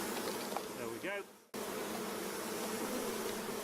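Half a cup of honeybees hums inside a measuring container, a dense low buzzing that drops briefly as the container is handled, then resumes steady and close.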